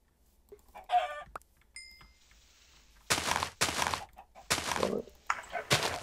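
Chickens cluck in a video game: a few short, close clucks come first, followed by a run of loud, thumping bursts, with no talk.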